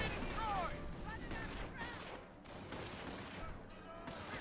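Gunfire crackles through a Company of Heroes battle, bursts of shots and distant booms layered with radio chatter and voices talking over the fighting.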